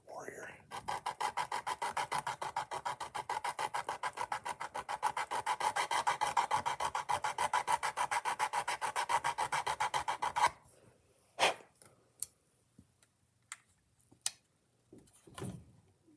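Sanding the edges of styrene plastic pieces for a 1/64 scale diorama, a long steady back-and-forth rasping stroke rhythm for about ten seconds, then a few scattered taps and handling noises.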